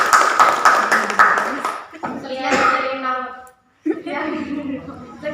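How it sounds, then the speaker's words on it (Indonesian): A school class of children applauds a group after its presentation, a short burst of clapping mixed with voices and chatter, near and fairly loud, with talk continuing after a brief pause. "tepuk tangan untuk kelompok."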